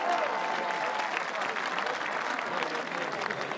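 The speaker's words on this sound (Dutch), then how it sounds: "Geef een applaus, Frederik Kramer." A stadium crowd at a fierljeppen (Frisian canal pole-vaulting) competition claps for athlete Frederik Kramer, with dense, continuous applause at a steady level throughout.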